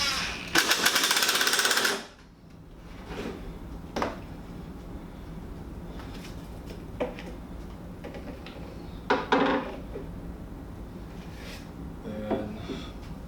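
Power driver sinking one screw on each side into a wooden dowel while assembling a ladder ball game: a loud, sharp two-second burst of whirring, then quiet with a few faint clicks and knocks.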